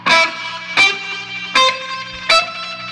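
Guitar chords played through a homemade echo rack built with a Magneto machine. Four loud, evenly spaced strums each trail off into ringing echo repeats, with no voices.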